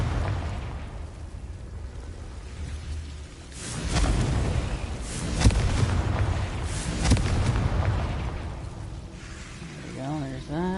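In Hogwarts Legacy, a Confringo fire spell explodes with a deep rumbling blast and several booming hits over a few seconds, while a voice talks briefly near the end.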